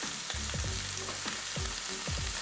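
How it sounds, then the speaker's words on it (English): Filet mignon steaks searing in a hot pan after sous vide cooking, a dense, even sizzle and crackle with repeated clanking tong and pan knocks, close and steady, with no speech. "I'm not trying to cook these. I'm just giving them a nice good sear."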